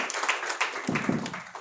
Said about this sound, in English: Give a big round of applause for our resource person.